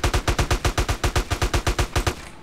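M4 rifle fire in GTA San Andreas: a fast, loud automatic burst of about fifteen evenly spaced shots, cutting off abruptly near the end with no talk over it.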